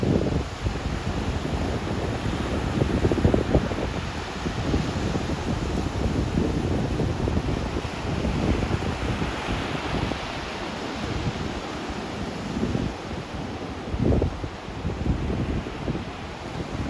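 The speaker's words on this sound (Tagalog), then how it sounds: "Laki ng alon." Big ocean waves rolling onto a beach at El Nido, Palawan, a continuous roaring wash with irregular surges and crashes, heavy wind buffeting the microphone throughout.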